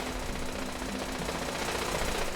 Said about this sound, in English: I hear sentries, I mean turrets shooting.